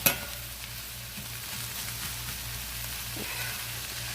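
Potatoes and onions frying in a pan, a continuous close sizzle with a low rhythmic pulsing hum and a brief scrape near the end.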